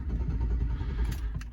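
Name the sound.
pickup truck engine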